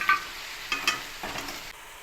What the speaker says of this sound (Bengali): আমি এখন এই চিকেনগুলো এখানে ভেজে নেব হালকা করে